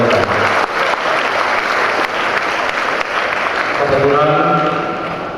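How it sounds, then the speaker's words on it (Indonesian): A crowd at a university graduation ceremony applauds continuously for several seconds, with dense, loud, sustained clapping filling the hall that eases slightly toward the end, while a faint voice comes through near the close. "Boleh tepuk tangan untuk mereka"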